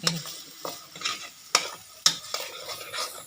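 Curry paste is fried with coconut milk in a pan, with a quiet sizzle broken by several sharp scraping and clinking strokes of a utensil against the pan.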